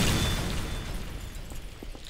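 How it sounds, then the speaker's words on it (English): Grenade launcher explosion in Garry's Mod, a broad low rumbling burst that opens loud and decays into a dull, steady roar, with a few faint pops following near the end. "That's one crazy grenade launcher."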